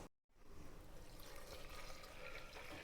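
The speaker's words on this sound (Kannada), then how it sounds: "ಸ್ವಲ್ಪ ನೀರು ಹಾಕ್ಕೊಂಡು" Water poured into a cooking pot, a continuous close splashing pour after a brief silent gap at the start, faint overall.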